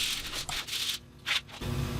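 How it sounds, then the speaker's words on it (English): Quick back-and-forth rasps of sandpaper rubbing on wooden segments for a segmented ring, close up, in short uneven strokes with brief pauses. "now I'm sanding the final 2 pieces to go into the assembly."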